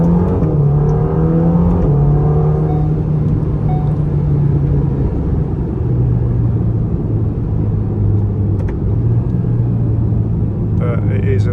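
A Ferrari Roma drives along a desert sand dune road in Dubai, its engine a steady, close, low rumble with gentle shifts in pitch as it cruises, and wind noise throughout.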